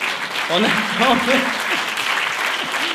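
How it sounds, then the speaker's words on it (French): Audience applause breaking out during a French comedy talk show, a dense burst of clapping with voices talking and laughing over it. "Ça, vous vous êtes battu pour cet applaudissement."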